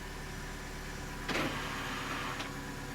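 Electric parking brake motor on a Vauxhall Meriva whirring briefly as it releases, a short mechanical buzz over steady background hum, followed by a fainter second whir.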